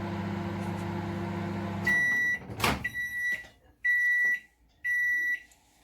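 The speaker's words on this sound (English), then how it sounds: "So I'm going to put this in the microwave" A microwave oven hums steadily while melting chocolate, then stops, followed by a series of high electronic beeps in short bursts.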